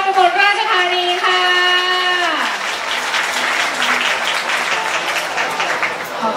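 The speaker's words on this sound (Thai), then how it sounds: "ขอเสียงปรบมือให้กับเจ้าภาพมหาวิทยาลัยราชภัฏอุบลราชธานีค่ะ" Audience applause for the host university at the opening ceremony of a higher-education arts and culture festival in Ubon Ratchathani, a steady clapping wash that starts under a sustained tone and continues alone.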